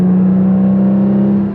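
A Porsche 981 Cayman S fitted with an Agency Power catback exhaust holds a steady 3,000 RPM, giving a loud, smooth, even tone with no drone, close by and free of any talk.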